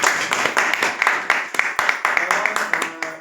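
An audience claps together in a steady rhythmic beat, the sharp claps coming close and evenly spaced for several seconds.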